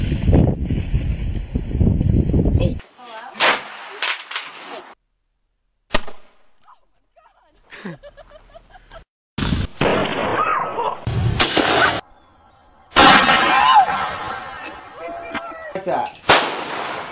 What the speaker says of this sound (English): put that double-barrel shotgun, and fire two blasts